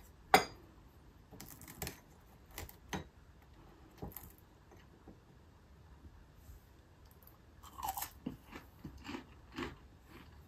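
Close, crisp bites and crunches of koshiabura wild-vegetable tempura, scattered irregularly in an otherwise quiet room, with a cluster of chewing sounds toward the end and no talking.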